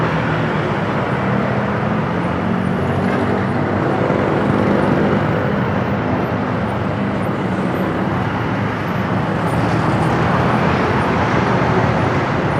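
Dense road traffic rumbles steadily from start to end, a broad, loud wash of passing engines with no pauses.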